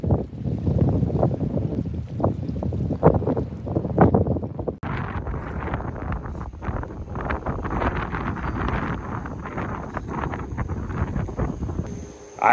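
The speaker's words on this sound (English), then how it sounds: "Maybe down here, the wind's not as bad." Strong wind blows steadily across a beach campsite in the Florida Keys, roaring and buffeting the microphone with loud gusts throughout, alone without talk.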